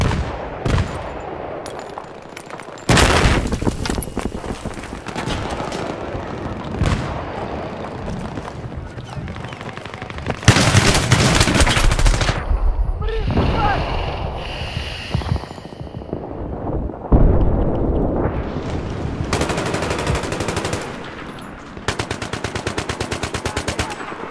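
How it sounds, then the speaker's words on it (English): Heavy gunfire in Battlefield 3 multiplayer team deathmatch on the Noshahr Canals map, with long bursts of automatic fire broken by short pauses and a brief quieter stretch, loud and close throughout. "Look out! Grenade!"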